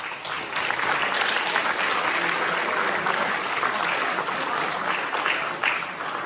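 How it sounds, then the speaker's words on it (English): A crowd claps continuously at a high school senior awards ceremony for the Class of 2021, dense and lively, sustained applause throughout without a break. "So give yourselves a round of applause."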